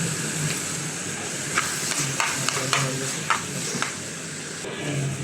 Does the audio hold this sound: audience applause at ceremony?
no